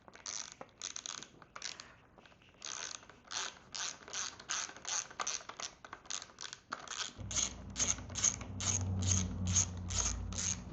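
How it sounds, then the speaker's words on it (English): A ratchet tightening handlebar risers on a 2026 Harley Davidson Nightster, quick, close clicking strokes in bursts that grow steady and rhythmic, with a low hum entering partway through. "I'll come down here and tighten up the risers"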